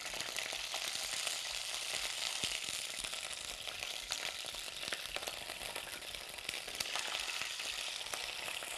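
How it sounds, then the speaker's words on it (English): Pheasant pieces brown in hot oil, a dense continuous frying sizzle scattered with sharp pops and spits, close and steady throughout without talk. "whoa, we're popping all over the place"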